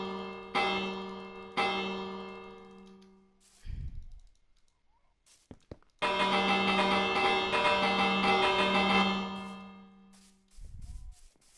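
A bell in Minecraft rings repeatedly, several bright metallic strikes with long ringing decays, one extended stretch of rapid clanging, separated by quiet gaps and a few clicks.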